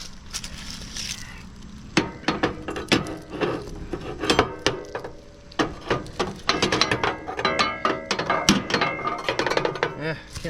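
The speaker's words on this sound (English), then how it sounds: "I can't get this one loose, so I'm gonna try to get a crowbar in there." Metal clanks, scrapes and knocks as a crowbar is worked against a stuck part on a lawn tractor, irregular sharp hits and rattles close up, with someone talking between them.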